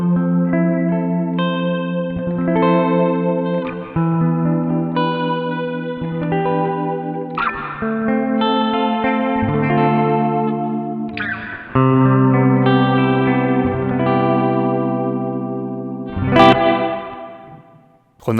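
Electric guitar runs through a Strymon BlueSky reverb pedal in room mode with modulation, playing sustained chords and arpeggiated notes that swell and shimmer in a lush, wavering wash of reverb, played alone without talk.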